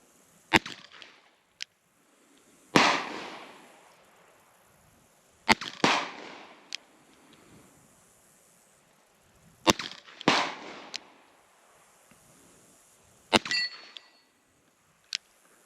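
A Colt New Police revolver fires single action at a range, about six sharp, loud reports spaced a few seconds apart, each ringing briefly, with softer clicks of the hammer between shots.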